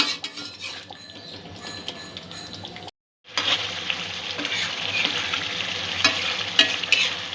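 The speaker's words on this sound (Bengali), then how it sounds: "সমস্ত মশলাটা যাতে ডিমের ভেতরে ঢোকে তাই জন্য কিছুক্ষণ ফুটিয়ে নেব" Egg curry gravy bubbling in a pan, a close steady sizzle and hiss with occasional utensil clinks, briefly cut to silence before resuming louder and continuing evenly.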